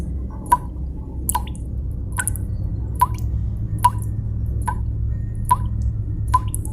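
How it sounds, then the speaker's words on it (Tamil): Water falling drop by drop, about eight evenly spaced sharp drips sounding alone over a low steady hum. "அப்போ அந்த சர்ச்சுக்குள்ள எங்கேயோ இருந்து தண்ணீர் சொட்டு சொட்டா வடிகிற சத்தம் மாதிரி கேட்குது."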